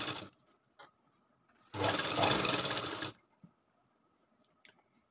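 Sewing machine stitching lace onto the back of a katori blouse, one steady burst of fast mechanical whirring lasting over a second, with a few faint clicks and handling sounds before and after.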